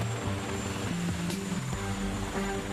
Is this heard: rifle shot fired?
no